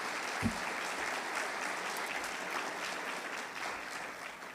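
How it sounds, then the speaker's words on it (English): An audience at a charity's annual meeting applauds, a sustained wash of clapping from a sizable crowd that holds steady throughout and tapers slightly at the end, heard from within the room. "How about another round of applause, please, for the Sturbers?"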